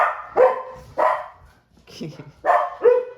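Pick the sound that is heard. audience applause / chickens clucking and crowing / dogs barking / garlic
dogs barking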